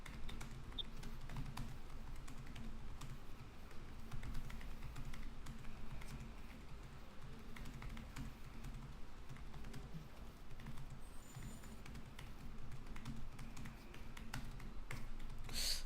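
Rapid, continuous clatter of a computer keyboard during a timed online typing test, the keystrokes tapping steadily for about fifteen seconds, close and clear with no talking.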